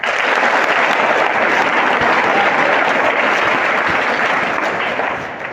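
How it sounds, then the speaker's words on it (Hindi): A crowd gathered for a speaker bursts into loud, dense applause. The thick, continuous clapping holds strong for several seconds, then begins to fade at the end. "एक बार जोरदार ताली हो जाए"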